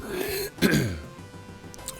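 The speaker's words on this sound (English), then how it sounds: "Pardon the sniffles and the coughing." A person with a lingering cold clears their throat hard and gives a short cough, close and fairly loud, over faint background music from a retro game.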